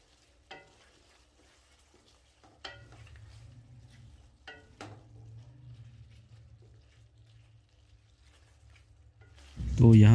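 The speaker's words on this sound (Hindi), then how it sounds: "1 से 2 मिनट इसे मज़ीद मिक्स करना है" Chicken white karahi with black pepper is stirred in a pan: a soft, low sizzle runs beneath a few sharp spoon scrapes and clicks, ending in a sudden loud burst of noise.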